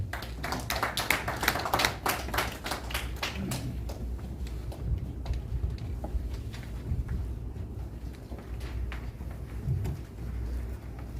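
Sparse, faint hand clapping from a small audience at a Korean ceremonial event welcoming a society chairman to read a prayer to heaven, with scattered claps early on and then isolated taps.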